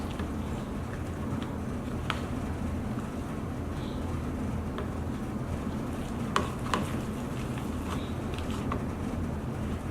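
Slime mixed by hand gives a steady, faint squishing and stirring texture that runs without pause, with a few brief sharper clicks partway through.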